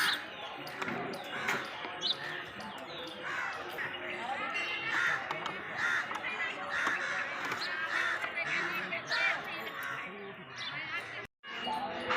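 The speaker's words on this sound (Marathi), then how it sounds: "इकडे कावळे आहेत ते शनी महाराजांचं वाहन आहे कावळा" Crows caw repeatedly at a temple, mixed into busy ambient noise from the site. Voices and other activity are heard around them throughout.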